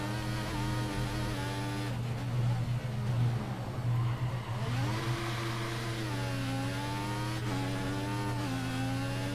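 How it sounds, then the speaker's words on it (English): A Formula 1 car engine in the video game F1 2014 drones steadily, its pitch rising and falling as it revs and shifts, loud and continuous. "I don't know if you can hear this on the video, but the engine sounds terrible."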